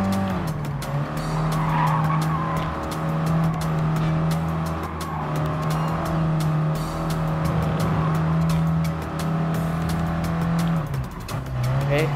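A first-generation Mini Cooper race car in Gran Turismo Sport revs hard with a steady engine drone, tires squealing and skidding through corners, loud and continuous throughout.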